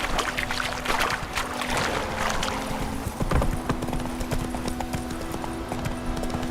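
Horse hooves trot at a steady clip-clop in The Witcher 3 video game, a continuous rhythmic run of close hoof strikes layered over the game's ambient background.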